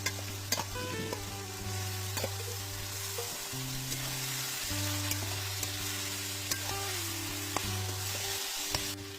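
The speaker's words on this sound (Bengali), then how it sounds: "মশলাটা কষানো হয়ে গেছে, এবার মটনটা দিয়ে দিলাম।" Pieces of mutton fry in a spice masala for Bengali mutton kosha, giving a continuous sizzle with scraping stirs and clinks from the utensil, with a steady hum underneath.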